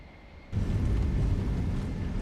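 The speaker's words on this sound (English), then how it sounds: "This is quite a short runway as well, so I need some good speed to take off again." A Globemaster III transport aircraft at Boscombe Down builds to power for takeoff on a short runway, its deep, heavy roar suddenly rising after a quieter start and holding loud and steady.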